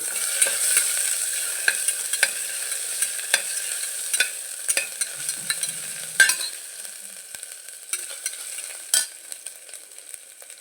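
Garlic and ginger fry in a pan for a rustic tomato rice dish, a steady close sizzle broken by repeated scraping clicks of a spoon stirring throughout, with no talk.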